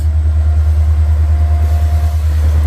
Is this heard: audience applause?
no